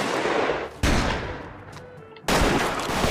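Gunshots fired at a boss in the video game The Wild West, two loud dense bursts of rapid shooting separated by a short lull with faint background sounds.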